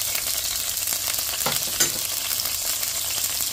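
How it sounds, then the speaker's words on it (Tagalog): Carrots and other vegetables are sautéed in a pan for sotanghon soup, a steady close sizzle with a couple of brief stirring scrapes, heard alone with no talk. "igisa natin itong mga ingredients. Carrots."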